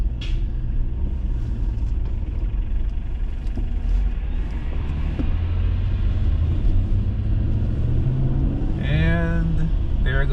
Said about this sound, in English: I'm gonna squeeze behind this bus.